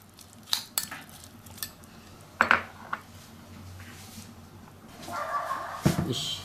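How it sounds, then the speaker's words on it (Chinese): Pigeon meat with salt and sesame oil stirred in a bowl, close clinks and scrapes of a utensil against the dish in scattered bursts, with a brief dog bark. "下面我开始腌，放点盐，放点小磨香油， 我给它搅拌均匀。"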